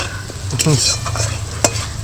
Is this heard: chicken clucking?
no